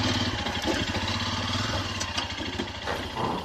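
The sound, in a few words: Royal Enfield Himalayan motorcycle engine running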